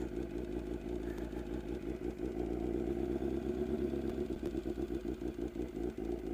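A motorcycle ridden while gears are shifted, a close steady engine drone with rhythmic pulsing and clatter that shifts in pitch partway through, no talk.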